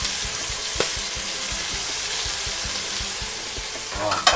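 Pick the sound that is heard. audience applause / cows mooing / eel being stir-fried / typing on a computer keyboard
eel being stir-fried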